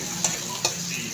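Onions sautéing in a frying pan, a steady close sizzle with two soft stirring knocks, no voices.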